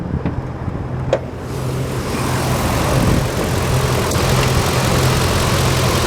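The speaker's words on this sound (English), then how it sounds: "letting you listen to the motor run" A 2008 Ford F-250 pickup engine idles steadily with the hood up, a low constant hum and even rumble held at a close, moderate level throughout.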